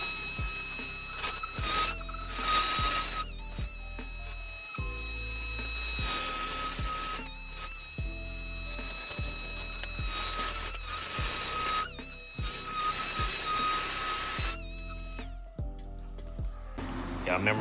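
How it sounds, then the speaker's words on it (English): An angle grinder cuts off a stubborn nut on the lower down pipe of a Q50 Red Sport 3.0t, whining in repeated loud bursts of a few seconds each with short pauses between them. "We cutting this nut off using a grinder thingy."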